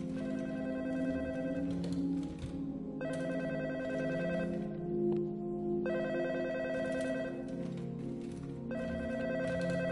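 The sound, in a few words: telephone ringing in a video game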